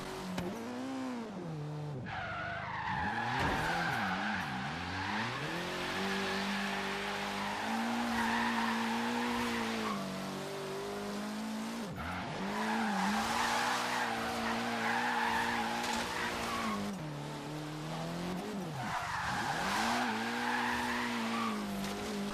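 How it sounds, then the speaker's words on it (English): A Ford Focus RS in Forza Horizon 3 drifts with long tire squeals and a revving engine, the pitch rising and falling through repeated slides, loud and continuous, with no one talking. "I actually think that was a perfect drift."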